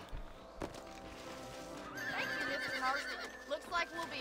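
A horse in the Red Dead Redemption video game on Xbox 360 whinnies in a rising, wavering cry amid hoof clip-clops and game ambience, with a voice speaking briefly near the start.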